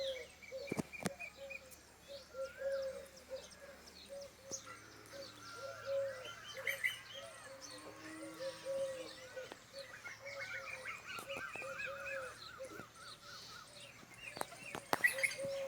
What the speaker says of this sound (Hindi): पक्षी सारे उड़ चुके हैं, अब बस 10-5 पक्षी बैठे हुए हैं